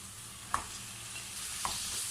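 Tomatoes frying with onion masala for bhindi masala: a quiet, even sizzle with two distinct knocks of a stirring spoon against the pan.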